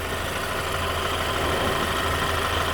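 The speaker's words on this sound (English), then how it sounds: "It's got to be a variant of the same engine. And it's having a hard time." Turbocharged 2.0 engine of a 2016 Buick Regal running rough, a steady loud close drone with a dense low rumble and no talking.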